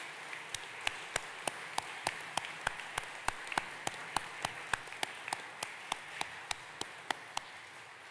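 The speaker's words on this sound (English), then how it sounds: "Please join me in a round of applause for our families, friends, and shipmates who played large parts in our sailors' success." Faint, sparse clapping at a naval training graduation ceremony, honoring families, friends and shipmates, with a steady soft wash of applause and distinct individual claps landing at a regular pace.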